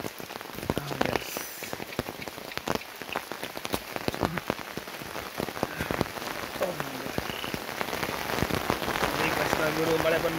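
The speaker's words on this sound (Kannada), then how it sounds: "ಮಳೆ. ಮಳೆ" Monsoon rain pours down in a parking lot at a plantation stay, a steady close hiss of drops striking surfaces that grows heavier toward the end.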